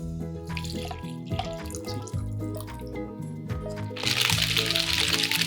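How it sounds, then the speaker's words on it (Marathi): Ice water is poured over ice pieces into a bowl of tadgola (ice apple) paste, with dripping, clinking splashes turning into a louder, steady pour near the end, close and alone. "यात जाईल पाणी."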